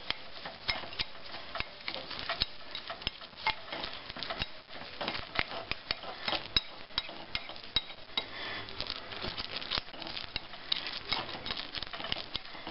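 Spoon stirring herb butter made from powdered butter and chives in a bowl: a steady, close run of light scraping and ticking taps against the dish, continuous and busy, with no talking.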